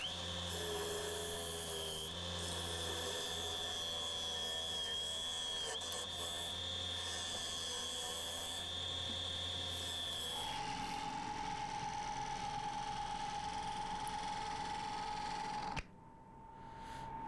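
A wood lathe spins a cracked yew lampshade blank at 800 RPM with a steady, loud mechanical whine and hum that holds constant, then shifts to a different pitch partway through before cutting out near the end.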